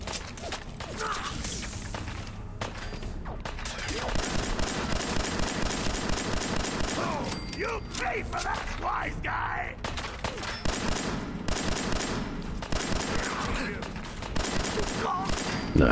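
Rapid, sustained gunfire from the video game Fallout 4, dense bursts of automatic shots with crashes and whooshes, loud and continuous throughout, with voices talking over the action.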